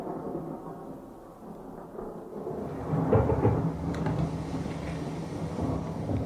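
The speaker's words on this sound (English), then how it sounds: "All night the rain beat down upon the old house and the thunder roared." Low rumbling thunder rolls through a steady wash of heavy rain, swelling louder midway and continuing as a dense, sustained storm roar.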